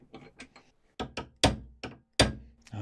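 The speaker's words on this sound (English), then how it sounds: "let's try and hit it off with a hammer" A hammer striking a stuck nut held in a vise, seven distinct metallic blows at an irregular pace, each sharp and close with a short ringing decay, the later hits harder.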